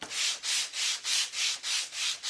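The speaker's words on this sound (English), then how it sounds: "I just want to sand it, go over it like so" Hand sanding of a painted wooden spindle heart, a close, steady series of about eight rhythmic back-and-forth rubbing strokes with no talk.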